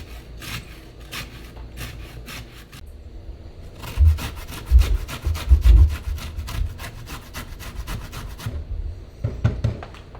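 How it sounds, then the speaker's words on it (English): Fresh lemons scraped across a metal grater for zest in a home kitchen, a fast series of short raspy strokes, sparse at first then quickening into a dense scratching run, close and loud with soft knocks of the fruit. "need to zest and juice our lemons. And basically, you just want to scrape it across until you get enough."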